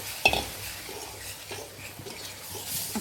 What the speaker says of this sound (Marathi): थोडं थोडं दूध टाकून याला थोडं हलवून घेते